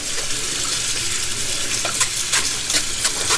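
Tap water pours over cooked macaroni pasta as it is rinsed to wash off the starch, making a continuous close rushing splash with irregular sloshes and clatters as the pasta is moved under the stream.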